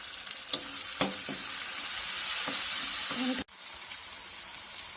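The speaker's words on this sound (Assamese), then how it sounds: "এইখিনি 2 মিনিটমানৰ কাৰণে ফ্ৰাই কৰিলেই হ'ব। এতিয়া মছলাখিনি ভাজা হৈ গৈছে।" Turmeric, red chilli powder and other masala spices for a chicken curry sizzle steadily in hot oil in a pan, a continuous close frying hiss with a few soft stirring knocks and a brief dip near the end.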